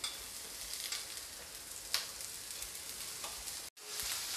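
Mixed vegetables stir-frying for veg chowmein on a high flame, a steady dense sizzle running throughout with a brief scrape of stirring and a short break near the end.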